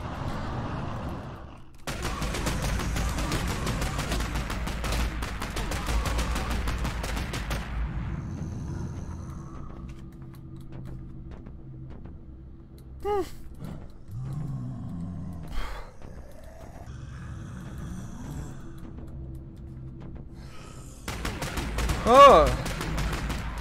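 Gunfire in the video game 2084, a loud sustained stretch of rapid shots at the start, then quieter ambience with a few isolated impacts, and another short burst near the end, with a player briefly exclaiming.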